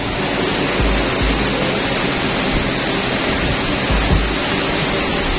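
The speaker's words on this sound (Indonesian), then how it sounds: "Hujan deras ya." Heavy rain pours steadily as a dense, loud hiss, with low rumbles and a few faint knocks mixed into the constant downpour.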